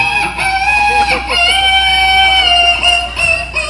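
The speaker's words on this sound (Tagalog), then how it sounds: "Kanang manok nagkanta." A rooster crows loudly and close by, a long sustained strained call that fills the whole moment, with faint background chatter.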